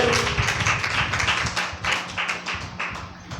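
A church congregation at Sunday worship claps loudly in praise, a dense run of sharp, close claps that continues with slight swells across the whole stretch.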